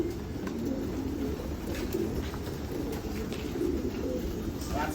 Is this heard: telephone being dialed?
no